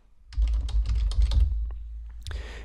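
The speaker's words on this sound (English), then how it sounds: "I can whittle down this list by typing in something." Quick bursts of clicking keystrokes on a computer keyboard, close and clear, about two seconds of typing with no talk.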